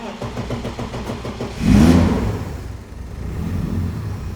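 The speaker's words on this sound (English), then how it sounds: "We'll start the engine and see what you think." A turbocharged, forged BMW E30 engine cranks with a rhythmic chug, fires up with a brief loud rev, then drops into a steady low rumbling idle.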